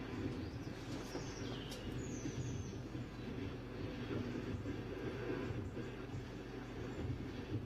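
A distant Antonov An-12 four-engine turboprop freighter drones steadily as a low, continuous rumble, fairly faint, with a few bird chirps over it.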